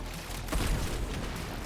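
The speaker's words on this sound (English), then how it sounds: "So I can do big explosions many times over." A deep, booming explosion from the Brahma bow in the Warframe game, a single heavy burst swelling briefly in a loud, dense wash of game noise.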